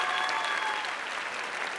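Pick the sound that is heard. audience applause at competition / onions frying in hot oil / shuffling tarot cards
audience applause at competition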